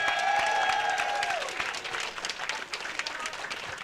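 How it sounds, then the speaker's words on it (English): A crowd at a Hartford legacy weekend event applauds a sculptor, a steady wash of clapping as a fading tone dies away at the start. "let's give her a round of applause as well"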